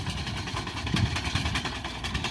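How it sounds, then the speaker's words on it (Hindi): A tractor drives slowly while pulling a fodder grass cutting machine through a field. Its engine gives a steady, close mechanical drone with a rough, throbbing rumble throughout. "बिल्कुल स्लो ट्रैक्टर जा रहा है और कटाई बहुत अच्छी हो रही है"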